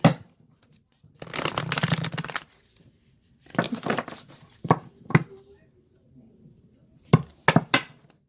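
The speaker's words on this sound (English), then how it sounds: "I'm just going to shuffle these a little bit in front of y'all." A deck of cards is shuffled up close in several separate bursts: a long riffling rush, then shorter riffles and a few sharp single snaps and taps with pauses between.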